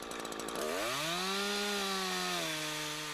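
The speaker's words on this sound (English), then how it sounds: "Now it's time for the felling cut." A chainsaw makes the felling cut on a tree, its engine revving up from idle and then holding a loud, steady whine close by, with no talk.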